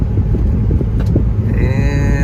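A Porsche 968 on a test drive down a small residential street, heard as a loud, close, low engine rumble from inside the car with wind buffeting against the microphone.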